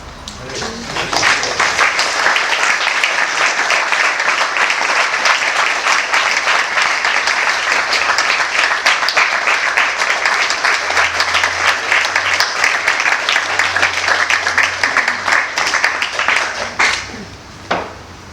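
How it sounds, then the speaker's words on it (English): Sustained audience applause after a spoken talk at a yoga center, a dense even wash of clapping that swells quickly, holds steady and loud for about fifteen seconds, then fades near the end with a low hum beneath. "Give another round of applause."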